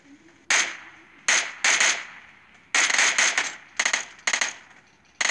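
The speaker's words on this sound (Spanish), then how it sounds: "Nos están disparando de otro lado." Bursts of gunfire in the mobile battle-royale game PUBG Mobile, sharp loud clusters of rapid shots separated by short pauses, fairly close and without talk over them.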